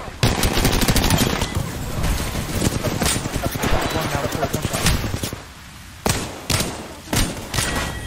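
Rapid automatic gunfire in an Apex Legends match on PS4 rattles in dense bursts, then after a brief lull returns as several separate loud shot clusters.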